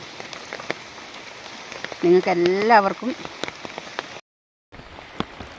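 Rain patters steadily with scattered individual drops; a person speaks briefly over it, followed by a short moment of silence before the rain resumes.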